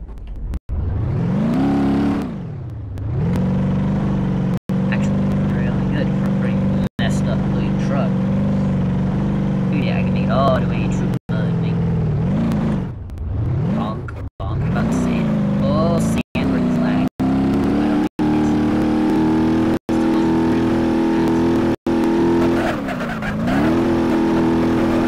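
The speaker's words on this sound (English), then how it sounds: "Let's see how it drives through the mud." A car in a video game labouring through mud in first gear, its engine droning loudly and rising and falling in pitch as it revs, with short breaks where the sound cuts off.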